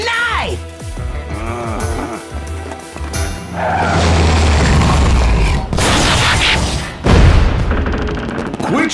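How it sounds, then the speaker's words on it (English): Fireworks booming and crackling in a Transformers Animated cartoon, a dense run of loud bursts and rattling pops layered with music and character voices throughout. "I'm trying to watch the fireworks!"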